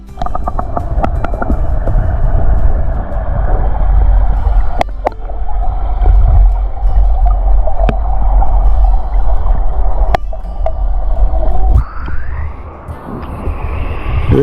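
Underwater ambience in Blue Springs creek: a steady low rumble and churning water noise with a faint tonal hum, broken by occasional sharp clicks and pops, loud and continuous with no talking.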